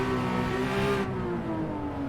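Car engine revving in the Assetto Corsa racing game, played on PS5 with a Logitech RS50 wheel: a steady, loud mid-pitched engine drone holds high revs for about two seconds, then eases slightly.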